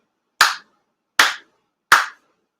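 Three sincere ritual hand claps at a Konkokyo shrine ceremony, sharp and evenly spaced about three-quarters of a second apart, each one crisp and close with silence between.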